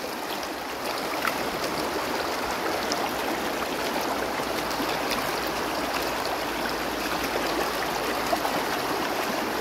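Stream water flowing steadily in a shallow current, a continuous close rushing wash with no break and no voices.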